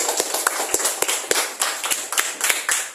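A small group claps in a classroom, giving scattered, uneven sharp hand claps close by, loosely spaced rather than in unison and fairly soft overall.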